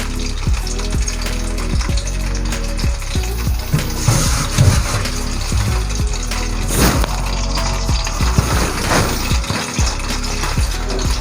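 Onion paste hits a hot cooking pot for yakhni aloo gosht and sets off a loud, continuous sizzle. Crackling and spattering run throughout, close and dense.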